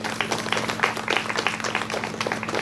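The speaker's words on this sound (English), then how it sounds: "I think everybody should appreciate and give an applaud for them." Audience applause for the organizers of a guest lecture on thyroid nodule management, a dense patter of many hands clapping steadily throughout, fairly close and continuous over a low hum in a lecture hall.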